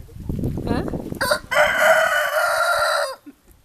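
A backyard rooster crows once, loud and close and held for over a second, after a stretch of hen clucking while someone talks nearby.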